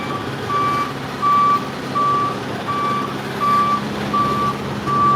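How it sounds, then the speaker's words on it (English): A delivery truck backs into an alley with its reversing alarm sounding, a loud, regular series of about seven sharp beeps over a low engine rumble. "And there's the delivery truck."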